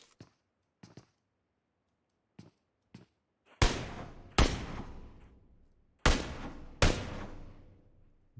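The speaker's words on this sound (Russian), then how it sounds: "Наверное, стрельба." Gunfire in the mobile battle-royale game PUBG Mobile: several faint distant single shots, then four loud close bursts in two pairs, each with a ringing decay.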